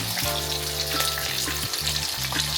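Continuous sizzling of Spanish mackerel frying in a pan, close and even, over a low, wavering mechanical hum.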